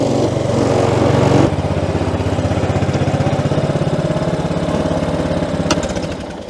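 A small single-cylinder ride-on mower engine chugs steadily with a rapid, even putter, close and loud throughout.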